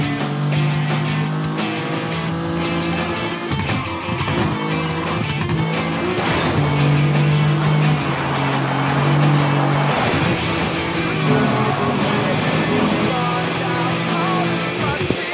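Cars race through city streets in the video game Burnout Paradise, a loud continuous engine drone shifting pitch with gear changes, tire squeals and occasional impacts over game music.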